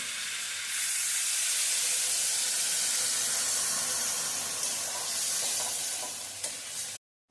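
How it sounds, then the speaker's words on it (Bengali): Water poured into a pan of frying raw pumpkin curry sets off a loud, steady sizzling hiss and steam that carries on for several seconds, alone without talk, before cutting off abruptly. "এবার আমি জল দেবো"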